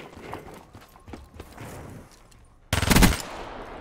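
Rapid automatic fire from a gun in a shooter game: a short, loud, fast burst near the end, after quieter footsteps and movement.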